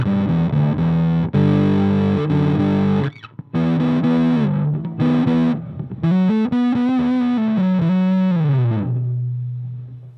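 Electric guitar through an Orange Crush 50 amplifier at full distortion with blend at 100%, loud sustained chords broken by short gaps, then a bending lead line that settles into a held note.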